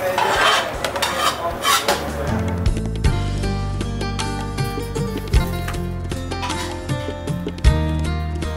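A metal spoon clinks against dishes and pots in a kitchen, a busy run of sharp clattering taps and scrapes with a couple of louder knocks, close and continuous.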